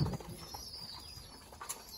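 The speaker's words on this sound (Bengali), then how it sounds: "আমার ঘরের সবচেয়ে পুরান কবুতর যে আর্মি কবুতর, এই যে খাবার খাইতেছে" Pigeons of an old army breed peck at food nearby, soft scattered pecks and rustles with a faint low coo, quiet and intermittent.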